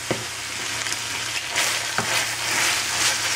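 Tomato puree being stirred into browned meat filling with basil and pepper for ravioli in a hot pan, a steady sizzle with a few sharp spoon scrapes and knocks, close and clear with no talking.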